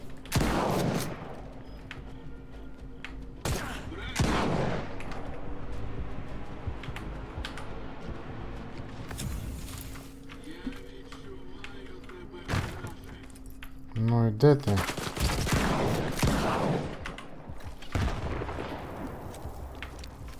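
Bursts of gunfire in S.T.A.L.K.E.R. crack out in several separate volleys, mixed with clicking keys and someone talking between shots.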